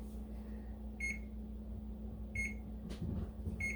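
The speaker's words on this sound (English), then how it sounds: "So I'm going to get my oven warming up to 450." A kitchen oven being set to preheat gives three short electronic beeps spaced about a second apart over a low hum, ending with a soft clunk.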